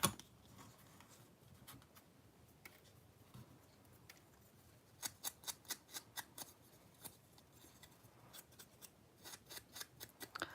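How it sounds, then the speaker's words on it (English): Scissors snip through patterned paper to make a flag for a handmade harvest card, quiet crisp cuts at first, then a run of rapid, evenly spaced snips, close and alone. "I'll go ahead and cut this into a flag for the inside."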